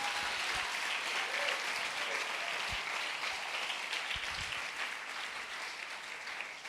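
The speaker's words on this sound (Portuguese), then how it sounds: "Dê só um aplauso, só para você relaxar." Steady applause from a church congregation fills the room, a dense wash of clapping held at an even level throughout, with a few low thumps underneath.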